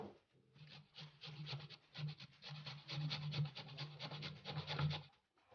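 Pumpkin is grated by hand, a soft, rhythmic rasping scrape repeated in quick strokes, close and fairly quiet, with no talking.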